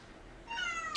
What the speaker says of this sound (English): we're just gonna have to deal with Star meowing